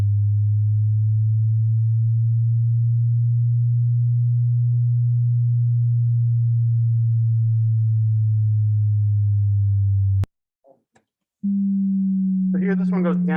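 A synthesized sine wave tone from a programming lecture demonstration, holding a steady low pitch for about ten seconds, cutting off briefly, then returning at a slightly higher pitch as brief voice sounds come in.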